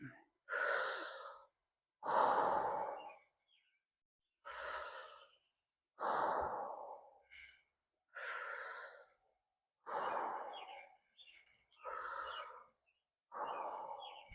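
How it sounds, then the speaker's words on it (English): Slow, deep breaths during a relaxed stretching exercise, each long inhale or exhale separated by short pauses, about nine breath sounds repeating steadily and close. "breathe nice and deep"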